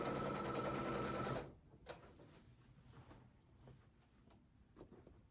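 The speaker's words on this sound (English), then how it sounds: "I usually like to sew a little faster, but I want to really make sure that these match." A sewing machine stitching fabric edges at moderate speed whirs loudly and steadily for over a second, then stops, leaving quiet handling clicks and rustles of the cloth.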